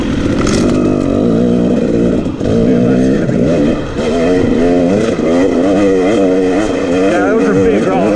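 An off-road vehicle's engine labours up a rocky trail in second gear, loud and close, revving up and down with brief dips and clatter, while a person talks over it.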